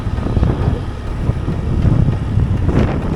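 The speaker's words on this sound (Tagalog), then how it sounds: "Tapos ngayon, sobrang lakas pa rin ng hangin dahil may bagyo, no?" Strong typhoon wind buffets the microphone near a bridge in Siargao, a loud continuous rumbling roar with gusting swells throughout and no voices.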